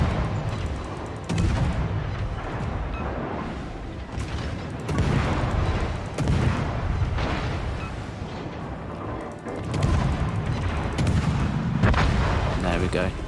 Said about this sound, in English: I'm just going to keep firing at him